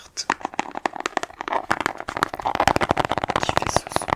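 Crackling and crinkling taps from a green box handled close up in an ASMR session, a dense run of sharp clicks and rustles building in intensity.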